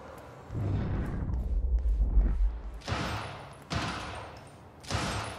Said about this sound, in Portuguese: preciso ver o que foi aquele tiroteio